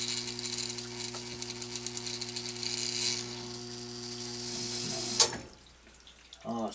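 Water flowing steadily into a well system's pressure tank during a pressure switch replacement, a continuous hissing rush with a steady mechanical hum beneath, ending in a sharp clank and brief rattles.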